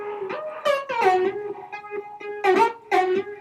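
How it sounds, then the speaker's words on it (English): A layered hip hop/EDM synth line with an extra synth added for a sharper attack, playing a series of punchy, bright notes in an irregular rhythm, side-chained and heard alone without talk. "I went a little bit more attack, so I added one more synth to it"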